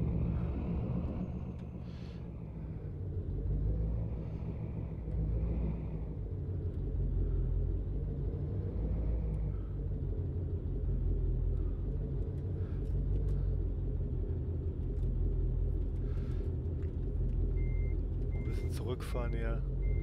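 An American Truck Simulator truck backs up with a steady reversing beeper sounding over a low engine rumble, continuous and fairly close, while someone talks throughout.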